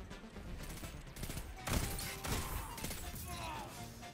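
Pulse rifle fire in the video game Destiny 2 comes as bursts of sharp shots amid other gunfire and impacts during a firefight, fairly faint overall, with a voice talking over the action.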